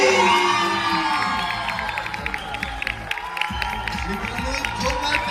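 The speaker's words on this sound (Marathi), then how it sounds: "जोरदार टाळ्यांनी स्वागत करूया." A crowd cheers, whoops and shouts for a competition winner at an outdoor event in Ratnagiri, a loud, dense roar with children's shrill shouts that holds steady throughout, with scattered applause mixed in.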